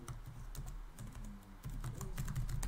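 Keys clatter steadily on a computer keyboard as Python code is typed during a lesson on string data types, a quiet run of close, quick taps with short pauses over low room hum.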